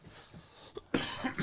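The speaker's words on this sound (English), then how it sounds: "I've been coughing a ton." A person with a dry throat coughs a few times in short, close bursts, with a softer throat noise before the loudest cough.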